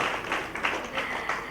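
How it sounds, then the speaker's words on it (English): Applause from an audience at a media summit, dense steady clapping from many hands lasting throughout without a break. "Can we have a big round of applause for her?"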